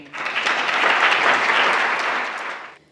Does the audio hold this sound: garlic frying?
no